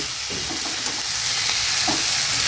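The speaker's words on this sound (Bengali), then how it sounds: "মাছের ডিমটা দেওয়ার পর ভালো করে আবারও 5 মিনিট ভেজে নেব।" Boiled fish roe frying in a pan with okra and potato, a continuous close sizzling hiss with faint stirring bumps, steady in level and free of talk.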